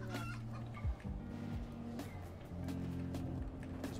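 Chicken clucking in World of Warcraft during a Gnomeregan dungeon run, stepped, throaty clucks repeating over steady game background sound.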